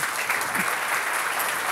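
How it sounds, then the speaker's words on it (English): Steady, dense applause from a conference audience after a keynote on digitalisation policy, continuous clapping filling the whole moment. "Let's give them another round of applause."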